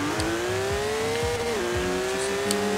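Volkswagen Karmann Ghia in Forza Horizon 4 launching on a drag run at full throttle, the engine note climbing steadily with one gear change midway, loud and close, with no talk.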